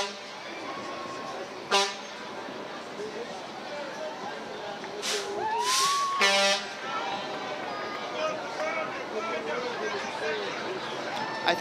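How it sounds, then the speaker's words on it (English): Loud blasts of a fire truck air horn sound in short bursts over a chattering crowd at a St. Patrick's Day parade in Cleveland, followed by a siren's brief rising whoop. "They're going to blow this horn here in a minute and hit the sirens."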